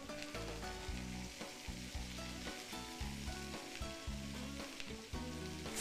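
Soy-sauce pork with sugar and ginger ale sizzles and fries loudly in a pan, a steady close crackle with occasional stirring, no talking.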